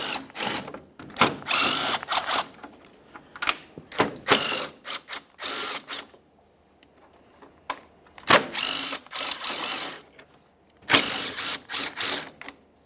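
A power tool spins out 10mm mounting bolts from the bumper brackets of a 2015-2020 Ford F-150, in several short, loud, close bursts of whirring and ratcheting, separated by near-silent gaps.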